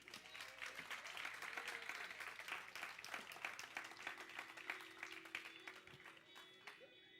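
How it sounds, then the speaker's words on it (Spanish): Church congregation clapping in praise during a lively worship service, sharp rhythmic hand claps repeating steadily over a sustained tone and murmuring voices, fairly faint. "Dale un aplauso al Señor"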